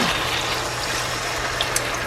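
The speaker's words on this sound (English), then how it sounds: "And now we're just going to add our water." Water pours into a pot of beef barley soup on a stovetop, a steady close splashing rush of liquid running for about two seconds.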